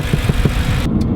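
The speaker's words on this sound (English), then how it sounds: "So here's the car with all the windows up, just cruising." Low, pulsing exhaust drone of a BMW E90 M3 with a loud exhaust at a steady cruise, heard from inside the cabin with windows up, rhythmic thrumming that stays even throughout the short stretch.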